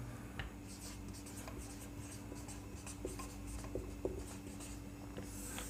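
A pen scratches steadily as observations from a galvanic cell electrochemistry experiment are written out by hand, a faint, continuous rasping with small taps and strokes over a low steady hum, no speech.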